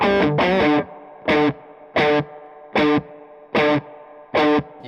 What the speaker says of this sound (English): can I turn on the reverb a little bit and see how it sounds with this overdriven tone?